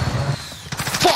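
A shotgun fires in a first-person shooter game, a quick cluster of sharp bursts over about a second amid game noise.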